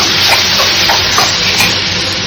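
Continuous loud sizzling hiss of sautéing in a pan with turmeric powder for an ammama-style chicken puttu, steady and close with faint stirring scrapes.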